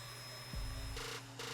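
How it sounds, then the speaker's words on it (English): A small vacuum cleaning debris from inside suede Air Jordan 3 sneakers during a restoration, a steady whine with a sudden pitch drop as the nozzle meets the shoe, then fluctuating under a faint high tone. "Like, he even vacuuming the shoes."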